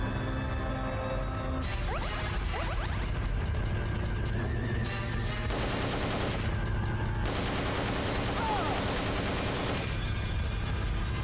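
Gunfire in Metal Gear Solid: Portable Ops, steady rapid bursts of shots running continuously and loud over busy game sound effects.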